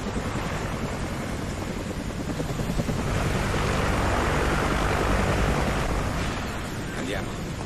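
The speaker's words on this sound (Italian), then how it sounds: "Elicotteri nemici!" Enemy helicopters in Call of Duty: Ghosts roar close and loud, a dense thudding rotor wash mixed with blasts and battlefield noise, while soldiers shout over the din.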